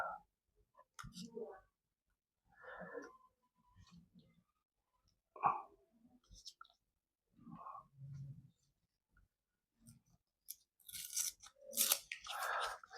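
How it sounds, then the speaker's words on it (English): A protective sticker is peeled off a new GoPro Hero 13 Black action camera, heard up close as quiet, scattered crinkles and clicks separated by pauses, ending in a louder crackling tear of plastic film. "Now I'm going to remove this all sticker up there."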